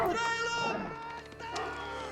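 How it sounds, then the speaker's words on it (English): A sheep bleats in Age of Empires, one drawn-out wavering cry up close, followed by fainter game sounds and clicks. "Good number of sheep there."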